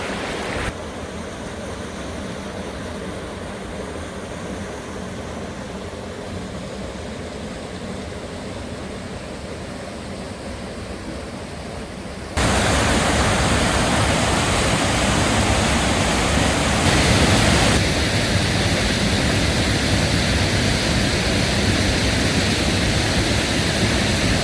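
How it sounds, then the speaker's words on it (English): An outdoor waterfall roars as a dense, constant rush of falling water that suddenly becomes louder and brighter about halfway through, with no voices. "Mission to see a waterfall accomplished"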